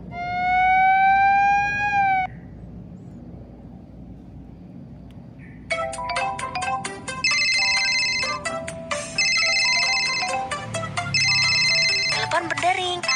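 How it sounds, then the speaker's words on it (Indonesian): Cartoon telephone ringing in a children's panda firefighter story: a steady electronic tone, then a loud, repeating, buzzy ringtone pattern in clear bursts lasting several seconds, with no speech. "Berdering."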